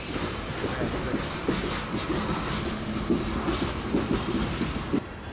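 Freight train Q455 rolls by on tree-shrouded track, a continuous moderate rumble with repeated rhythmic clicks of wheels over rail joints.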